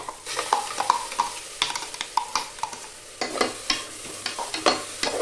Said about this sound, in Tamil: வாசம் போகிற வரைக்கும் வறுத்தோம்னா போதும்.